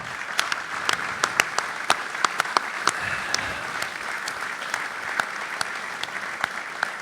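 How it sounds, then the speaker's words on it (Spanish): Audience applause at a tribute event, a steady sustained clapping from a crowd with sharp individual claps standing out throughout, moderately loud and continuous with no speech over it. "lo aplaudimos fuertemente a él"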